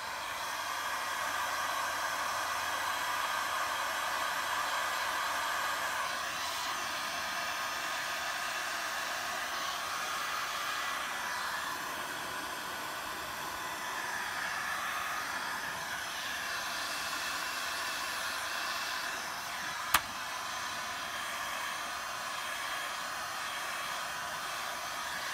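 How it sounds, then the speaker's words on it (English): Heat gun blowing steadily on the corners of a Porsche PDK Sport steering wheel's trim to soften it, a continuous close airy roar with an even hiss that hardly changes, broken by a single sharp click. "heat up the corners to soften those up so that they don't crack, and then put a little heat on the back side of the steering wheel"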